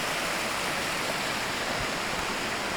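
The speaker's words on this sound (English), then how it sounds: "here we are at Chetra-Kola, which is Chetra River." Continuous rushing water, a dense broadband roar of the fast, freezing Chetra River in Nepal flowing nearby beneath a bridge, with no voices.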